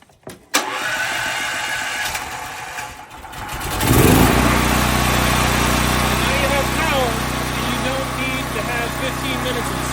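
Small propane-fueled engine on a budget welding trailer, choked on a cold day, cranking briefly and then catching into a steady, loud running drone, with someone speaking near the start.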